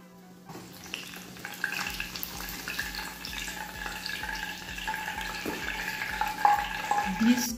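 Steady crackling sizzle of cheese biscuits frying in hot oil, continuous and close, with faint kitchen clatter and a brief voice near the end.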